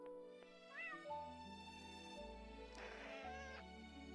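A cat meows in a video game, a few faint, short mews rising and falling over sustained game music with low droning notes.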